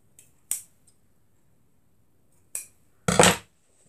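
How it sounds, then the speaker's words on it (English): Scissors snip doll apron fabric close to a seam, giving a few sharp, isolated cuts at close range in an otherwise quiet room, with the last cut longer and fuller. "I'm going to cut it just as close as I can to the seam."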